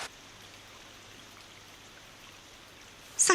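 Rain falls steadily outside, a soft even patter and hiss throughout, fairly quiet, with a brief louder knock at the very end.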